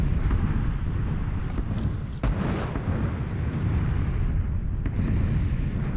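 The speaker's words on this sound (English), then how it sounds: "that's the sound of the artillery yes. shooting those shells." Booming artillery shelling in the video game PUBG (PlayerUnknown's Battlegrounds), a dense continuous rumble of distant blasts and crackling bursts that sits loud and steady throughout.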